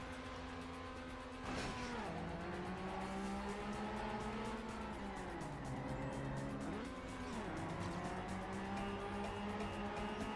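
Engine of a car climbing uphill in the racing video game Trackmania, revving and shifting pitch steadily and loudly after a brief quieter start, with tyre-like whines rising and falling throughout, no talk.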